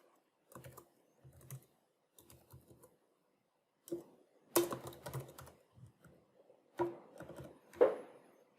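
Quiet bursts of typing on a computer keyboard, short irregular runs of clicks separated by pauses, close and soft with no talk.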